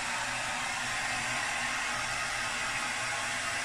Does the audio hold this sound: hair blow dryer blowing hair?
yes